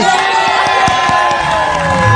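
A studio audience on an Indonesian celebrity gossip show claps and cheers for a guest, loud bright cheering with sharp claps and whoops, busy and close, with a few voices mixed in.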